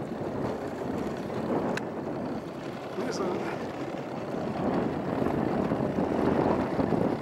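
An outboard motor on a fishing boat runs steadily on the water, a constant loud drone mixed with wind and water noise, with talk over it.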